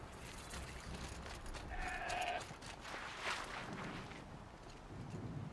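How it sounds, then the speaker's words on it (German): Sheep bleating in the snowy wilds of Horizon Zero Dawn: The Frozen Wilds, a couple of short, wavering calls rising over steady ambient wind and faint footsteps, with no talking. "Ist doch ein Schaf, ne?"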